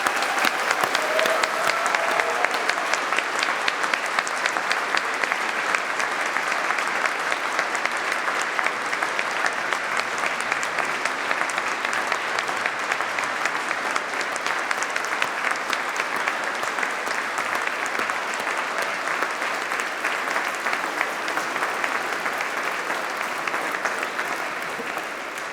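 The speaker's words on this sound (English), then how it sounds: "give them one last round of applause to recognise all their achievements" Sustained, loud applause from a large crowd at a University of Manchester graduation ceremony, dense and even throughout without any talking.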